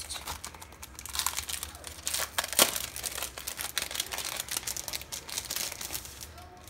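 Exclusive one-sided scrapbooking papers from a July 2018 Citrus Twist kit are handled up close, giving soft, continuous crinkling and rustling with small sharper crackles and no talk.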